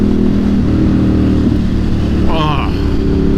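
A motorcycle engine drones steadily and loudly while riding, with a continuous low rumble and a brief rising whine near the end, heard close up under wind noise.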